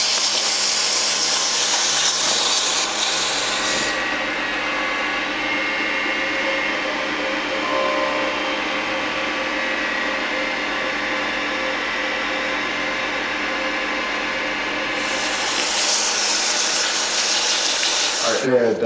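Wood lathe spinning a small turned bottle-opener handle at about 2,000 RPM while wire burning it, a steady hissing whir that runs unbroken for the whole stretch without talk.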